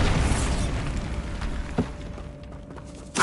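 Spell impacts boom in Hogwarts Legacy as Bombarda is cast inside a tomb, giving several fairly faint muffled bursts over a low rumbling ambience, with a sharper pop near the end.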